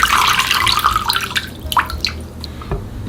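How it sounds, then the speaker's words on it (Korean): Broccoli is rinsed under cold running tap water, with a loud, close gush and splashing at first that thins into scattered drips and splashes toward the end. "찬물에 한번 씻었고요."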